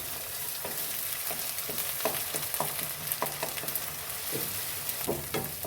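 Green chili paste frying in oil in a pan, a quiet, steady sizzle close by, broken by regular spoon scrapes and stirring knocks, with no talking.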